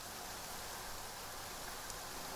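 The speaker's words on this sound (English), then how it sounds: "I like the rain. There's something peaceful about it." Steady rain falling at night in Genshin Impact, a soft, even hiss of drops with no clear individual impacts, low in level and continuous for the whole stretch.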